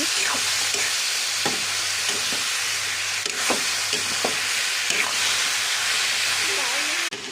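Leafy greens dropped into hot oil and frying, a loud continuous sizzle with intermittent stirring knocks and scrapes from a spatula close by, ending with a sharp clatter.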